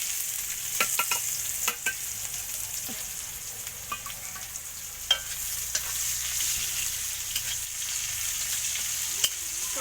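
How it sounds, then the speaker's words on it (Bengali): Onion frying in hot oil with dried chillies in a wok, giving a steady bright sizzle with scattered pops and stirring clicks throughout, fairly close. "এবার দেখো পেঁয়াজটা দিয়ে দেবো।"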